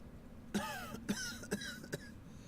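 A prison warden character in the Dreamfall video game gives four short, throaty coughs spaced about half a second apart, fairly quiet over a low background hum.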